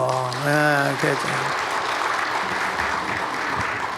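A voice speaks briefly, then a church congregation breaks into steady applause that continues to the end, moderately loud and filling the room.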